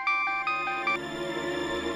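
A phone ringtone plays a bright, repeating electronic melody for an incoming call, with regular tonal pulses and sustained notes, loud and close with no talking over it.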